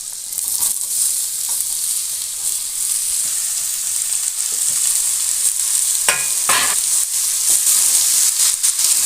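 Chopped bottle gourd hits a pan of lightly browned fried potatoes, with a steady loud sizzle and hiss of frying and a few clattering stirs partway through.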